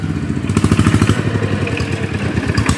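A loud, steady diesel-type tractor engine chugs and rattles close by, its rhythmic thumping running continuously throughout.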